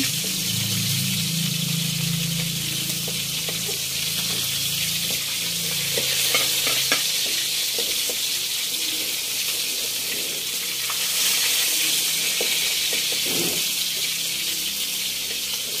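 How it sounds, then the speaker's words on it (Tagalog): Onion and garlic sautéing in butter in a pan, a steady close sizzle with scattered scraping stirs, continuous and fairly loud without any talking. "So yan po, pinagigisa yung ating sibuyas at bawang."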